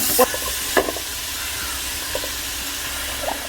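Chopped carrots and 100 grams of beans for chicken fried rice sizzle steadily in a hot pan, with a few brief clinks of stirring cutting through the continuous hiss.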